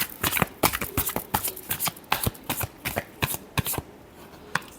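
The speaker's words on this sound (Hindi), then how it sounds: "Last shuffle." Tarot cards being shuffled in a run of crisp riffling bursts and soft slaps, close and fairly quiet, with no talking.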